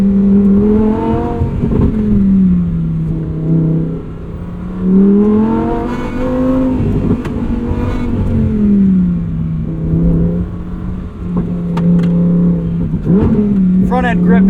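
Engine of a 2023 Lamborghini Huracan Tecnica revving loudly while driving, pitch rising and falling through gear changes and swelling again, continuous and close throughout.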